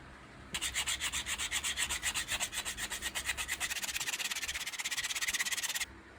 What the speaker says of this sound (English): I can go with sanding paper